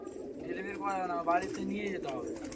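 Giribaz pigeons from Murshidabad coo at a sale in West Bengal. A few soft, rolling coos come close together, fairly faint and close by, over quiet background noise.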